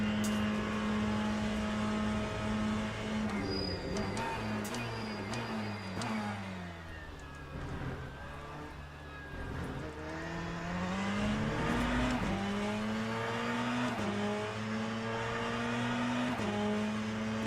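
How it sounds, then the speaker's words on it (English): A Corvette GT3 race car engine drones loud and close in Le Mans Ultimate, holding a steady pitch, then sagging as it slows. Midway it climbs again into a rising rev as the car accelerates. "I love the sound and everything of the Corvette GT3"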